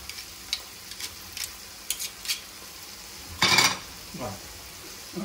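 Garlic frying in a pan while cooking rebollones mushrooms, heard as a faint sizzle under scattered clicks and scrapes of stirring, with one louder burst of sizzling midway.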